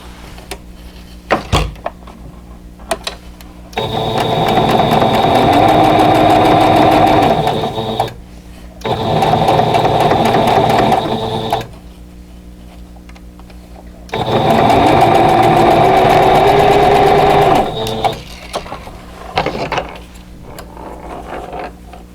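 A sewing machine stitches a quilt block for an Arrowhead Star stash-buster pattern in two long, steady runs separated by a pause, with quiet handling between bursts and no talk over the motor.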